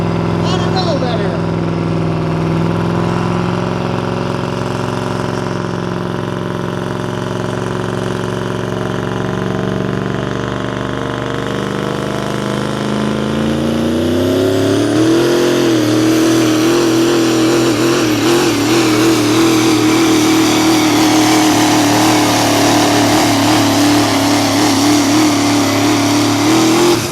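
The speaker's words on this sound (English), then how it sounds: "a little bit different sound from that V8 Duramax. Listen as it comes off the line." A V8 Duramax 4x4 pulling truck at a smooth bore truck pull launches off the line, its engine roaring steadily and climbing in pitch as it pulls away, loud throughout, with an announcer talking over it and crowd noise behind.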